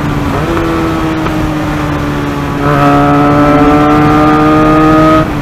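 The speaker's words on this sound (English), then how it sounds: "One more downshift." A Benelli 302R or KTM RC 390 sport motorcycle racing at high speed, its engine droning loud and close as the pitch steps down through a downshift and then holds a steady tone.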